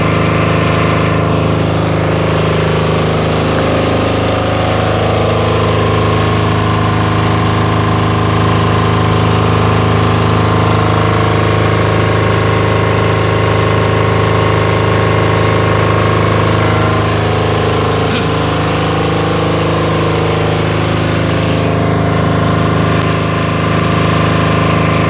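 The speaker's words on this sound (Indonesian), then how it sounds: "genset akan running secara otomatis" A Tsuzumi TDG15000S-3 generator set, started automatically through an ATS/AMF panel at an MR.DIY store in Yogyakarta, runs with a loud, steady engine drone that holds evenly throughout with no talking.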